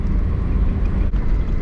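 A 1998 Tofaş Doğan's engine braking downhill on a mountain road: a steady, close, low droning rumble with one brief dip in level, and no talk.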